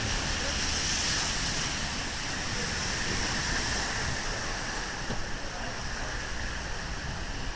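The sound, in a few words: torrent of rainwater flooding a street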